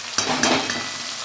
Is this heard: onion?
yes